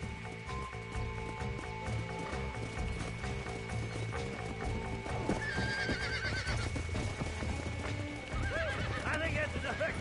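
Horse neighs and whinnies ring out over steady clip-clop of hooves in the Red Dead Redemption video game, with game sounds and someone talking underneath.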